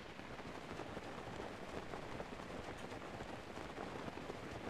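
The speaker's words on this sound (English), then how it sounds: "Still raining." Steady, dense rain in the video game Breath of the Wild hisses evenly throughout, a constant wash of drops with no pauses and no voices.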